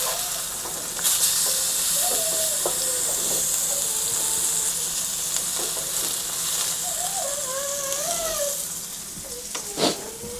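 A salmon fillet sizzles in a hot pan, a loud, steady, close frying hiss that runs unbroken throughout, with only a faint clink near the end.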